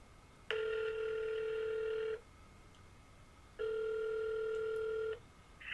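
A telephone rings twice in steady electronic bursts of about one and a half seconds each, separated by a pause, clear and alone with no talking.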